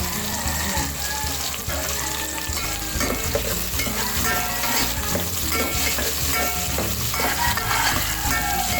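Garlic sizzles and sautés steadily in a hot pan, with scraping stirs throughout; the frying is continuous and close, with some water-like hiss mixed in.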